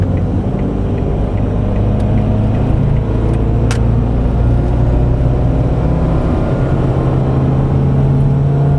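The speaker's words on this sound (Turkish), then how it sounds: "Bir daha dip gaz yapalım." A Ford Fiesta 1.4 Titanium hatchback pulls hard at full throttle, its engine drone steady and loud from inside the cabin, with a low rumbling tone rising slowly over several seconds.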